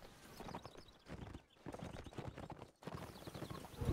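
Horses in a WW1 video game clip-clop continuously on hard ground at a brisk, even pace. The hoofbeats are loud and near with brief pauses, and a faint neigh sounds once.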